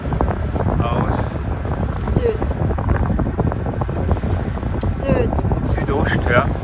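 Wind buffets the microphone aboard a sailboat at sea in a light southerly breeze, a steady close rushing roar throughout with faint voices briefly audible beneath it.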